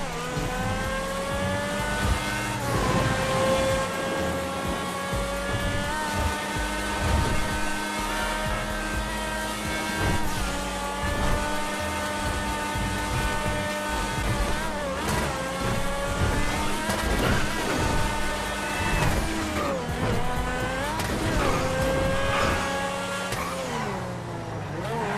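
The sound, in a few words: supercar exhaust while driving in GTA 5 video game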